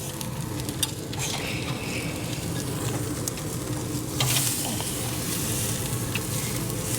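Tomahawk steaks sear on a Yoder YS640S grill with a steady, close, dense sizzle that holds even throughout, swelling slightly near the end, with no talking.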